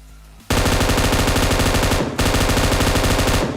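Rapid automatic gunfire in PUBG Mobile, loud and close, starting abruptly after a brief quiet and running as two long sustained bursts separated by a short break.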